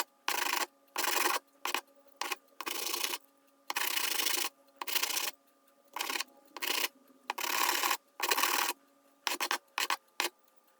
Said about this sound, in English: I'm starting to work on the handle here with some coarse sandpaper.